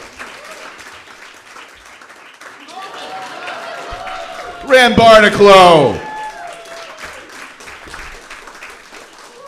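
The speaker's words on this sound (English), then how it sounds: "Clap him!" Comedy club audience applauding a comedian, a short loud burst of clapping and cheering in the middle, with someone speaking over the room before and after it.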